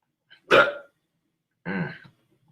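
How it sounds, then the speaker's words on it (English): Two sharp hiccups from a man, about a second apart, close and fairly loud against otherwise quiet surroundings. "Ooh, got the hiccups."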